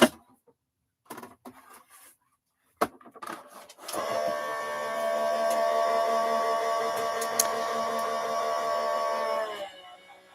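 A crafting die-cutting machine runs a card through sideways with a steady, close mechanical whirring and grinding for several seconds. A few short clicks and handling sounds come first, and no voices are heard.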